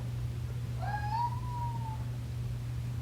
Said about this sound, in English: He's standing over there by the daggum door and meowing like that.